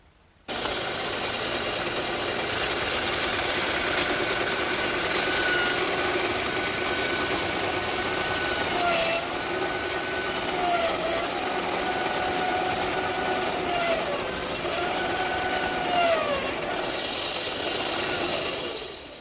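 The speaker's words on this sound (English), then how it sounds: "I think I'll cut them over on the bandsaw" A bandsaw cuts curved arcs through wooden leg pieces for a blanket chest, a steady, loud motor drone with a whining blade running continuously and shifting tone as each curve is cut, with no voices.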